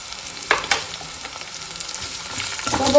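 Onions and garlic fry in a pan, a soft steady sizzle with a couple of brief stirring bursts near the start and a louder crackle toward the end, no voices.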